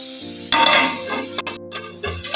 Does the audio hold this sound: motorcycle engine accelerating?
no